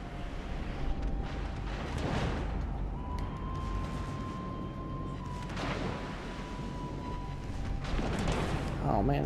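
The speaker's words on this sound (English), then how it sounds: "secondaries are firing because we're close range" Yamato secondary guns fire at close range in World of Warships: Legends, a series of heavy booming reports every few seconds over a constant rumbling battle bed, with someone talking throughout.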